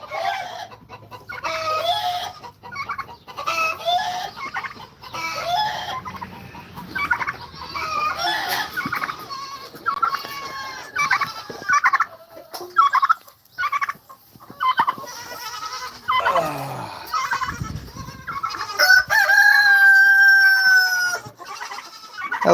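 Chickens cluck and squawk in a busy, overlapping chorus, close by, with a rooster-like crow rising near the end.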